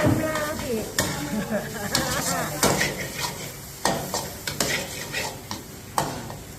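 Shallots stir-fry in oil in a pan, giving a close, crackling sizzle punctuated by repeated sharp scrapes and knocks of a utensil against the pan.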